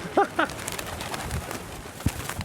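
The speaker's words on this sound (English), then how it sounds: "I'm guessing there are about 300 birds now around my feet." Pigeons coo in short throaty bursts near the ground, a flock gathered close around someone's feet on an open plaza, with soft rustling and faint crowd ambience beneath.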